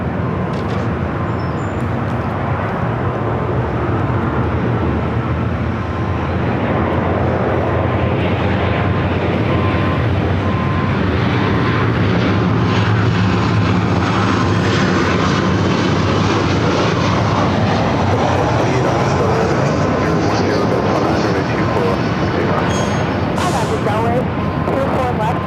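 A jet airliner takes off at Los Angeles LAX airport, its engine roar swelling and holding loud and broad for a long stretch, then slowly fading as it climbs away.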